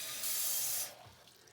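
Water gushes from a tap in a brief, loud burst for under a second, then cuts off, leaving quiet room tone, in a chemistry lab while diluting solutions.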